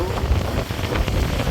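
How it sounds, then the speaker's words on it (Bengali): Steady rain falling in the predawn dark near Munshiganj aboard a river launch, a continuous broadband hiss mixed with wind and water noise, even and unbroken throughout. "বৃষ্টি পড়তেছে এখন"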